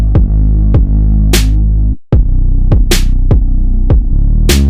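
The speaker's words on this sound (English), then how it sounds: "The snares, they sound like this." Three crisp, bright snare hits crack over a booming kick and heavy sidechained bass in a trap beat, landing loud and regular against the deep thumps.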